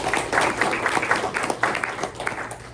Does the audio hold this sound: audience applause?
yes